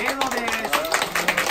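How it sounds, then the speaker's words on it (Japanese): An audience applauds to welcome a band member onto the stage at a film's opening-day stage greeting in a small Shimokitazawa theater, steady clapping running beneath a speaking voice. "盛大な拍手でお迎えください"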